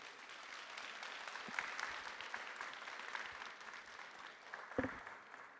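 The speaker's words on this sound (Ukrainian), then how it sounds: "Давайте більше оплесків." A conference audience at an urban forum applauding after a presentation, steady clapping from a crowd at moderate distance, fairly quiet, with a few louder claps near the end.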